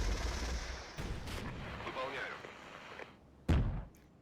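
Gunfire and artillery in the real-time tactics wargame Regiments: a rumbling wash of distant shooting with scattered sharp reports, capped by a heavy booming impact near the end, with a voice speaking over parts of it.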